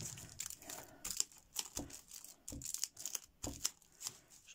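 Close, crisp crinkling of thin aluminum foil in repeated short bursts, rustling and crackling as it is pressed, folded and glued onto a card.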